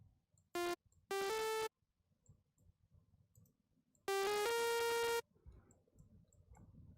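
A saw wave synth from Serum, set without unison, plays short bright buzzy notes: a brief blip, a longer two-pitch phrase, then a similar longer phrase after a pause, over quiet background noise.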